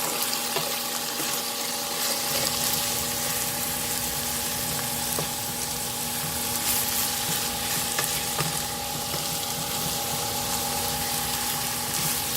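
Grass-fed beef with shiitake mushrooms and long beans fries in a pan, a loud dense continuous sizzle with a steady mechanical hum beneath and occasional faint stirring taps.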